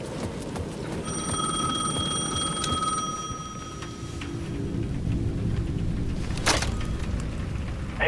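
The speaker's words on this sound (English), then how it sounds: "The payphone at the edge of the plaza was ringing again." A payphone at the edge of a plaza rings in the video game Alan Wake 2, a bright electronic trill sustained for a few seconds over dark ambient rumble, followed by a sharp clack as it stops.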